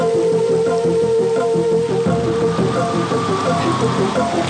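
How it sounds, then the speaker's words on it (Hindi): Heavy rain pours steadily throughout a Hindi-dubbed South Indian movie scene, a loud dense wash of falling water with no voices over it. "इतनी बारिश में? बहुत जोर से हो रही है सर।"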